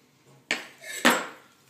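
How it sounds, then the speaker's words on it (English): A knife glides under duck skin while a duck is butchered, giving two brief close scraping, slicing strokes about half a second apart, each fading out. "You just glide your knife and you remove it."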